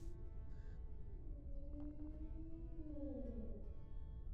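Wolves howl in long, wavering, rising and falling tones from a distance in the game Medieval Dynasty, faint over a low ambient rumble with no speech.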